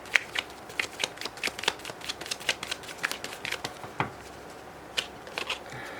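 Tarot cards are shuffled and drawn close up: a quick run of crisp riffling snaps and soft flicks, some clustered and some spaced out, with no talk.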